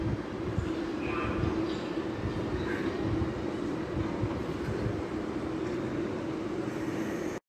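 A train rumbles steadily at close range at Ashford International station, a continuous low mechanical drone with faint higher squeaks, no voices, cutting off abruptly at the end.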